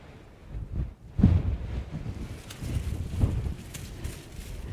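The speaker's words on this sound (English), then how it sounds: "it's really windy" Gusts of wind buffet a microphone outdoors in East Lothian, producing uneven low rumbling bursts that swell and fade over a few seconds.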